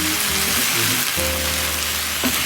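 Onions frying in a pan give a steady, close sizzle with a bright crackling hiss throughout, accompanied by low scraping tones.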